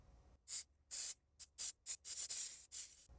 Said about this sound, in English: I'll do about 10 sprays.